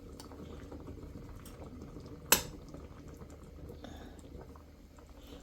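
Salmon sinigang soup simmers in a pot with a steady low bubbling hiss, broken by one sharp clink of a utensil or lid partway through.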